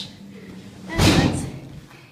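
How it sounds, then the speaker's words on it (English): A door is pushed open against a pile of snow in a snowy setting, giving one muffled thump and a short scraping rush about halfway through, with quiet background before and after. "she just had to move a pile of snow out of the way to open the door"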